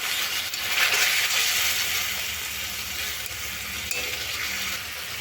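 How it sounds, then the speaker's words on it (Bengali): Turmeric and chili powder spice paste with a little water frying in a pan, a loud continuous sizzle and hiss with stirring scrapes, up close and without talk. "পরিমাণ মতো হলুদ গুঁড়ো, পরিমাণ মতো লঙ্কা গুঁড়ো, একটু জল দিয়ে মশলাটা ভালো করে কষে নেব"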